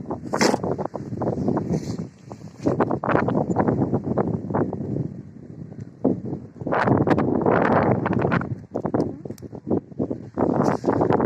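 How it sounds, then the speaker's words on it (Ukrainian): Strong spring wind over an open green field in a village buffets the microphone in gusty, rumbling bursts, loud and close, with rustling throughout. "але вітряно дуже"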